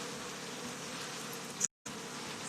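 Bees from a resting honey bee swarm on a rose bush hum steadily and fairly faintly in the open air, the sound cutting out for a brief moment before resuming.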